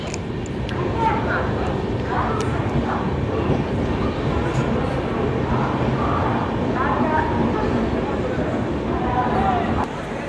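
Inside the Saraighat Express as it pulls into Bardhaman Junction, a loud, continuous rumble and rattle of the rolling carriage with faint voices and clanks over it.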